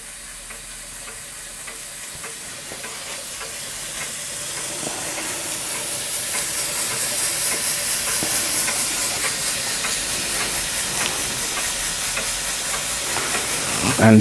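A Swan M2 model steam engine runs very quietly, giving a steady soft hiss and faint rhythmic chuffing that slowly builds in level over the whole stretch, with no voices.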